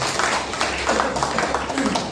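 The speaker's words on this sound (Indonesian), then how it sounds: "hadir tepuk tangan" An audience claps at an evening community gathering in a sub-district office hall, with a dense patter of hand claps and voices murmuring underneath.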